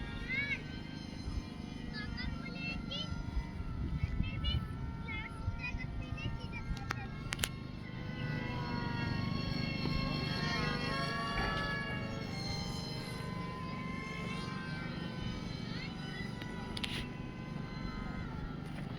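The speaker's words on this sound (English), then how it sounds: "Wow, two planes." Two RC model planes fly together outdoors, and their electric motors give off a steady whine that rises and falls, with voices talking throughout.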